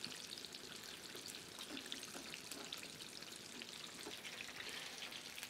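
Chicken thigh pieces frying in hot oil, a continuous crackling sizzle with dense popping bubbles, steady and fairly quiet with no talking.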